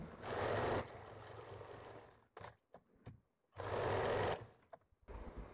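An electric sewing machine stitching a straight seam on a blouse piece runs in two loud, steady bursts, separated by quieter handling and shuffling of the fabric close by.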